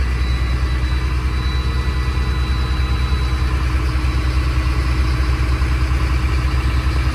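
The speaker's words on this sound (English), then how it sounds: "we'll get the high idle going, build up some air pressure in there" A 2004 Thomas FS65 school bus diesel engine held at high idle to build air pressure, a steady loud low throbbing drone with an even, unbroken rumble throughout.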